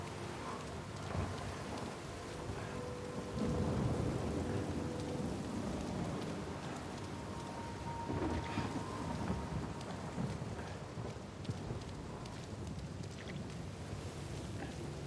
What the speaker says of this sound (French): L'orage rajoute un côté dramatique.